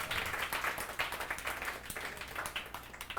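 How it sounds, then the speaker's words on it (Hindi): A group of students in a classroom applauds during a physics lesson, soft rippling claps in a steady, slightly ragged rhythm that carries on, faint and fairly distant, for a few seconds. "ताली बजाओ रे।"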